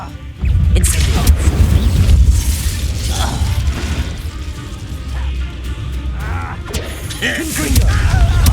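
Incendio fire spell cast in Hogwarts Legacy: a loud, deep rumbling fire burst with mechanical crackles, sustained across combat noise with intermittent voices.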